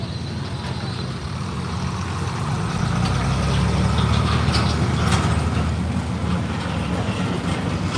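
Heavy pulling tractor engine idling at a farm stock tractor pull, a steady deep rumble that swells slightly midway and carries on continuously with a faint outdoor background.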